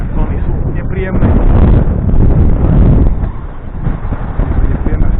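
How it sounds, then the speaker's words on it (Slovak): A cold north wind blows across the water while catfish fishing on a boat with waves, a loud steady roar buffeting the microphone. "Nepríjemné, studený vietor,"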